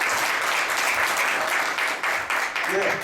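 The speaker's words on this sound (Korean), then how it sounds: "박수로 큰 박수로 마치겠습니다" A big round of applause from the audience at the close of an aviation industry development forum, dense, loud clapping filling the whole stretch without a break.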